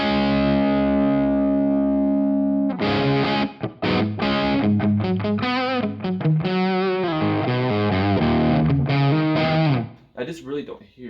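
An electric guitar runs through a Wampler Ratsbane distortion pedal at lower gain, first a sustained chord ringing out, then a run of crunchy, driven single notes and chords played continuously and closely miked.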